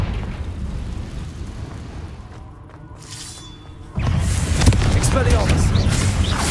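A Confringo fire spell blasts in Hogwarts Legacy, a sudden loud burst that jumps in after a quieter stretch and then rumbles on as a broad, sustained roar.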